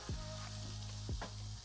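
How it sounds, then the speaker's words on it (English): Steady sizzling of food frying in butter in a hot pan, a continuous crackling hiss with a few brief scraping stirs, close and fairly quiet. "Can you hear the sizzle?"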